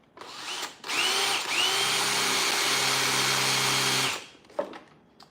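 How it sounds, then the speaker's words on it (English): A loud, steady mechanical whine of a jigsaw cutting runs for about three seconds after a short start-up, then cuts off, leaving a few faint clicks. "jigsaw is gonna be loud."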